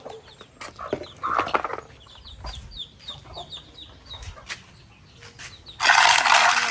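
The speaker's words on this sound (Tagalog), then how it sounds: "manok ito." Chickens cluck and chatter nearby in short bursts, with scattered movement noises and a louder rustling burst at the end.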